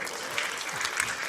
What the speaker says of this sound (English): And pass up on this applause?